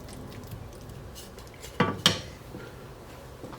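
A Sichuan tofu dish is stirred in a pan: a quiet kitchen background, then two sharp metallic clanks of the utensil against the pan close together near the middle.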